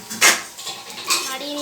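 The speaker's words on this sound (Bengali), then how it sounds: "নাড়িয়ে নিলাম।" A spoon clinks and scrapes against a metal cooking pot as radhuni spice tempering is stirred, with one sharp clatter near the start and a softer one later, fairly close.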